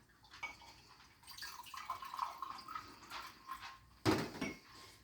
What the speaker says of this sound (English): now I'm going to get these pots and pour some of my red cabbage solution into each pot